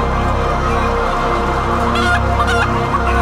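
Crowded, confined poultry clucking and squawking loudly together, a dense continuous flock chorus with a few sharper calls standing out.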